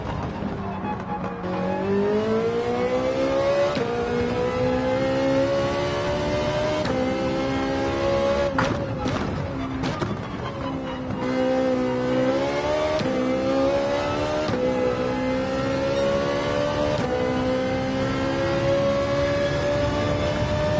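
A race car engine at full throttle in Gran Turismo 7 on the Daytona road course, howling loud and close as it climbs through the revs, with brief dips at gear changes before it winds up again.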